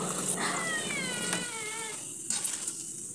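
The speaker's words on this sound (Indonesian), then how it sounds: "kalau teman-teman dengar suara kucing, ini kucingnya tuh ada di bawah kakiku teman-teman" A house cat meows several times right beneath someone's feet indoors on a morning of house cleaning, rising and wavering close to the microphone, then quieter sounds follow.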